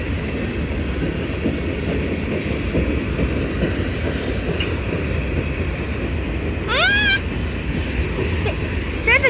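A CSX freight train with four engines rumbles past continuously near a station, loud and close, with squealing wheel tones near the end.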